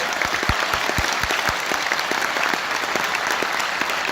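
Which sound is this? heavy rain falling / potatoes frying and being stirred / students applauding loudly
students applauding loudly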